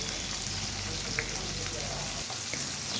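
Onion and garlic paste frying in hot oil over pieces of fried fish, giving a steady, close sizzle that continues without a break.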